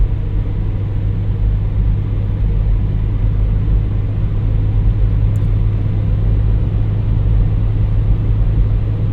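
A 1991 Dodge Grand Caravan cruising at highway speed, around 60 to 65 mph, with a steady, loud droning engine and road rumble that holds evenly throughout, close and continuous with no pauses.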